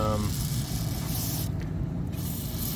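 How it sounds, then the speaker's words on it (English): Penetrating oil is sprayed from a can onto mud-covered truck door locks, giving a loud continuous close hiss that briefly pauses then resumes, with speech likely mixed in. "we're gonna go ahead and spray these with this penetrating oil"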